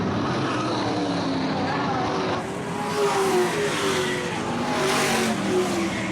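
Modified race cars roar around the Lakeport, California oval in a close battle, engine pitch sweeping up and down as they pass, loud and continuous with a commentator speaking over it.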